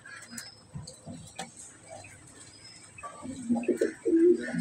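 Domestic pigeons cooing in a loft where chicks have hatched, low throaty coos building toward the end amid soft rustling and scattered chirps, no talking.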